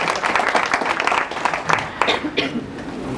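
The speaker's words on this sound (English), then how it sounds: "Please give yourselves a round of applause." Audience members at an SME summit clap together in a sustained round of applause, with sharper individual claps standing out and some voices underneath.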